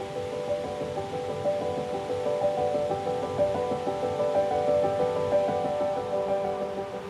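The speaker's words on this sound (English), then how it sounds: "The Lower Falls of Letchworth State Park is a 70-foot tall waterfall that requires a bit of hiking to discover and view its wondrous flow." Steady, full roar of the 70-foot Lower Falls at Letchworth State Park in New York, a continuous broadband rush of falling water that stays even and close throughout, with no voices.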